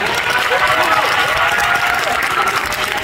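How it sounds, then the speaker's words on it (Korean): Audience at a film festival screening of Broker breaks into sustained loud applause, dense clapping filling the whole stretch with crowd murmur. "큰 박수 부탁드립니다"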